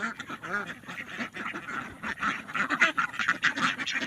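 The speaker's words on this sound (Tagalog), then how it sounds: "naghihintay na ating mga alagang itik" Pet ducks quack in a steady, busy chorus close by, overlapping calls filling the whole stretch without pause.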